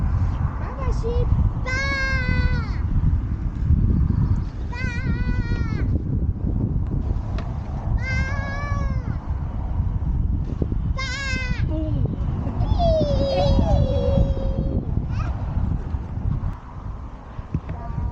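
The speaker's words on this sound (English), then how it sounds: "Baba sheep." Sheep bleat repeatedly near a church on a countryside walk, several clear wavering calls spaced through the stretch over steady wind and rustling, with a person briefly talking.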